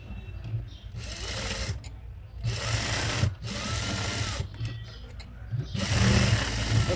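A sewing machine runs in bursts, stitching the side seam of a frock, with short pauses between runs and steady close whirring throughout.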